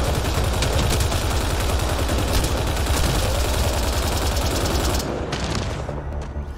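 Rapid continuous gunfire from Mass Effect Andromeda on Kadara, loud dense automatic bursts that run steadily and then break off near the end, leaving quieter rumble.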